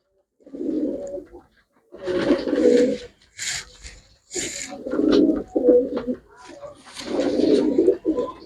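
Pigeons from a single household kept for sale coo in repeated throaty bursts close at hand, and human voices mix in among the calls.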